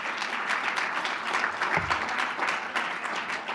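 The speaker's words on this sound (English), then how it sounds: "How about another warm round of applause for all of our scholarship donors, please, everyone." Steady, warm applause from a dinner audience honoring scholarship donors, a continuous dense wash of clapping hands throughout with no talk.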